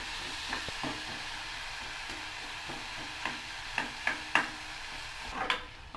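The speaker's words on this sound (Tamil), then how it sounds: "வெங்காயத்தோடு சேர்த்து தக்காளி நல்லா மசிகிற மாதிரி நல்லா வதங்கட்டும்" Onion and tomato sauté in a pan for chutney for idly and dosa, a soft steady sizzle with a few stirring clicks and scrapes rising near the end, close and fairly quiet.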